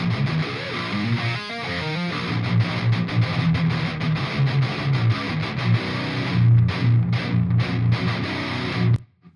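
Distorted electric guitar riff with a 5150 lead tone through an MXR Custom Badass Overdrive, close-miked with a 57 into an SSL 4000E channel strip, loud and dense with palm-muted chugs, playing alone.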